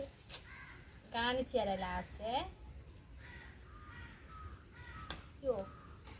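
A crow caws several times in harsh, repeated bursts, fairly close, while a person talks quietly in between.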